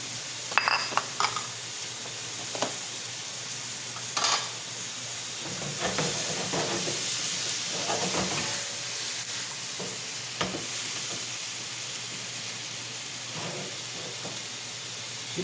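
Noodles and shrimp stir-frying in a pan, a steady soft sizzle and steamy hiss with scattered scraping and clinking of the spatula now and then, fairly quiet and without speech.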